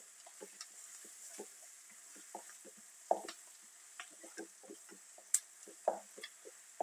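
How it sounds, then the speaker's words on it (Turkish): A spoonful of tomato paste is sautéed with spices in a pan, giving faint soft sizzling under repeated scraping stirs, with sharp clicks of the utensil against the pan. "1 yemek kaşığı da salçamı ilave ediyorum ve güzelce kavurmaya devam ediyorum"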